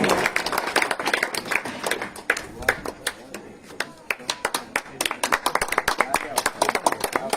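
An audience claps at an honour ceremony for a former municipal chairman in Rajasthan. Brisk, uneven hand claps come in bursts that thin out and pick up again, with an announcer talking over them.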